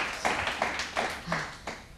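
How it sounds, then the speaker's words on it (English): A few people clap for a team's answer on a science quiz show, six or so distinct, sparse claps spaced about a third of a second apart, fairly faint and close. "Let's have a big round of applause."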